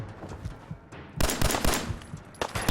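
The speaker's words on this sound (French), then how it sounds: "Je te tire dessus." Gunfire in Fallout 4: a few scattered shots, then a loud rapid volley of close, sharp reports with another burst near the end.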